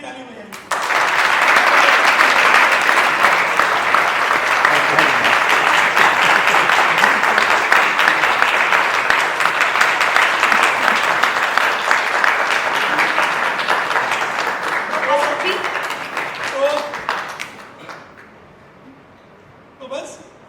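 An audience applauds the cast at a Taarak Mehta Ka Ooltah Chashmah stage event, loud sustained clapping close by for about fifteen seconds before thinning out and fading to near silence.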